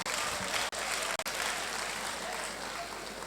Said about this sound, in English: Ladies, give yourselves a round of applause